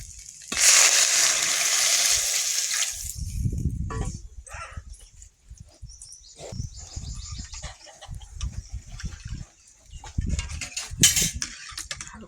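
Water poured into a cooking pot of fried potatoes with turmeric for potato dal, a loud rushing splash for a few seconds, followed by bubbling, clinks of utensils and faint bird chirps outdoors.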